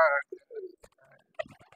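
Shirazi pigeons, a large tame breed, give a few short, soft coos close by, heard briefly between bursts of a person talking.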